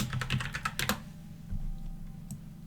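A computer keyboard hammered during gaming, a quick burst of loud, close clattering keystrokes in the first second, then a few scattered taps over a quiet background hum.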